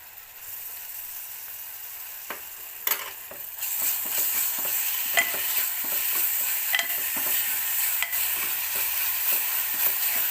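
Ginger and garlic paste fries in a pan for a mutton liver dish, giving a steady loud sizzle with repeated spatula scrapes and taps throughout.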